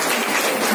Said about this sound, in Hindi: आप लोगों के लिए एक जोरदार ताली होनी चाहिए